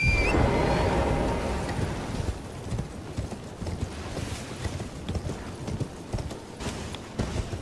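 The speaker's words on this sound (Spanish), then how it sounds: "Coger el caballo." A horse gallops in the video game Elden Ring, its hooves making a steady rhythmic clip-clop over ground, loud and close, with a brief whinny-like tone at the start.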